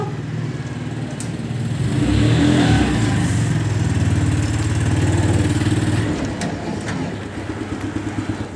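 A car engine revs up and pulls away nearby, swelling in two loud surges before easing off, with no talk over it.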